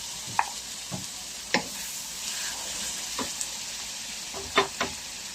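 Mussels in their shells sautéed with paprika in a very large wok, a steady sizzle with a handful of sharp clinks and scrapes from stirring spaced through it, close and moderately loud, no talking.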